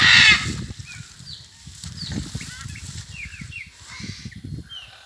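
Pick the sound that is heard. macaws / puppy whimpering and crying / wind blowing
macaws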